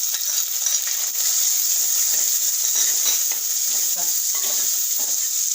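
Chopped onions hit hot oil with popped mustard seeds and curry leaves, giving a loud, steady sizzle with scattered stirring clinks from the pan throughout.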